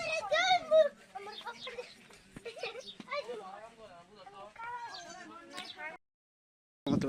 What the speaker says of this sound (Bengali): দুইটা সুন্দর সুন্দর ছাগলের বাচ্চা কালকে বিয়েছে